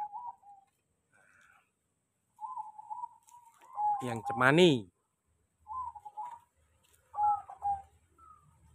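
A zebra dove (perkutut) coos in scattered short phrases. A voice speaks briefly and a louder rooster-like call cuts in at mid-clip.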